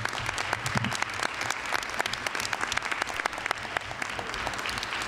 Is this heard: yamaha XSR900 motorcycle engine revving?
no